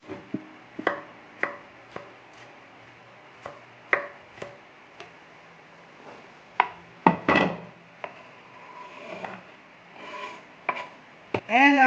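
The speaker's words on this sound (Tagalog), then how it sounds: "iwain na natin yung bawang natin" A knife chops garlic on a board while preparing bistek Tagalog, with a run of sharp, separate strikes at an uneven pace, close and fairly loud, with no talk over them.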